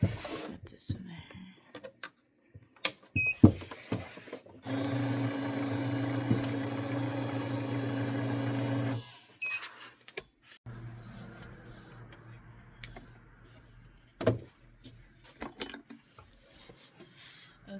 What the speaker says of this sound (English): So I am about to do this money machine.